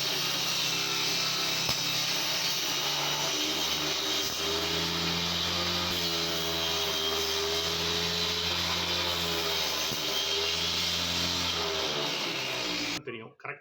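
A homemade table saw cuts through wood with a steady, droning whine and grinding rasp, close and loud for about twelve seconds before the motor abruptly stops.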